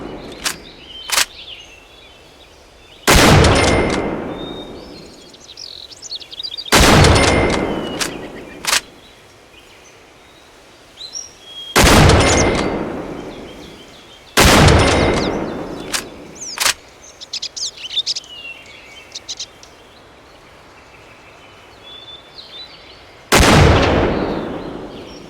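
Rifle shots in the video game Cabela's Big Game Hunter 2012: five loud, sharp reports spaced several seconds apart, each trailing off in a long echoing decay, with faint bird chirps in the outdoor background between them.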